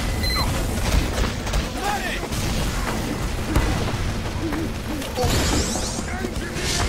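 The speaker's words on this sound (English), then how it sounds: "Damn, they were busting them rockets." Rocket explosions in the video game Team Fortress 2, a dense run of booms and crashes layered over constant battle noise, with players shouting and talking throughout.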